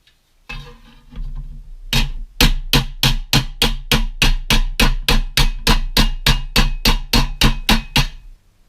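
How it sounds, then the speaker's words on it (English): Steady, evenly spaced hammer blows ring out on a metal panel clamped in a vise while ribs are bent into it for a 1970 VW camper bus restoration, about a dozen loud metallic strikes in a regular rhythm after a brief scraping start. "made the ribs by opening up the vise to the desired gap and using brute force with a hammer"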